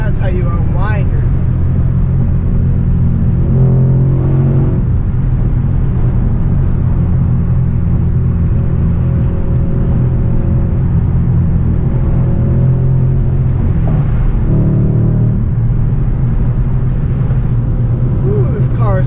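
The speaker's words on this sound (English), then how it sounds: "Ooh, this car is too much fun to drive." A BMW E92 M3 engine drones and rumbles loudly from inside the car while driving, a steady low growl with brief swells of revs, and a person talks over it.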